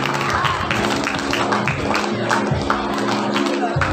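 Audience applause with scattered claps and crowd noise for a prize winner at a high school festival prize ceremony, a short steady burst of clapping.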